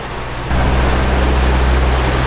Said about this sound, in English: And now we're in a storm, hoping we don't get hit by lightning.